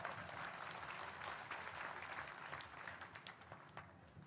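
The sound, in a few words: audience applause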